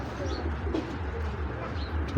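Black checker Maxi pigeons, a breeding pair kept in a loft, coo low and close in soft repeated phrases while someone talks over them.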